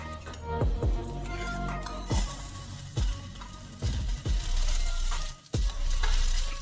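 Mawa (khoya) and potatoes are stirred in a pan for aloo halwa with a gentle sizzle. A spoon scrapes and clinks against the metal in an uneven rhythm, close and fairly quiet.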